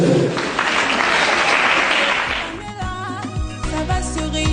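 Church congregation applauding together during a collection for women's financing, loud sustained clapping for over two seconds that fades into music with a steady beat.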